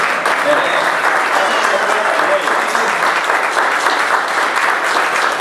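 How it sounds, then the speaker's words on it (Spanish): A church congregation claps steadily together, a dense wash of applause filling the space and holding loud and even throughout. "Dale un aplauso al Rey."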